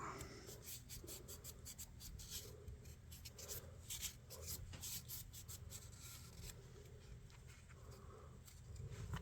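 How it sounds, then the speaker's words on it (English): Brass on a vintage electrician's knife being scrubbed, a quiet, close, irregular scratchy rubbing with rapid back-and-forth strokes and no voices. "Keep scrubbing and cleaning down in there, but we'll get it."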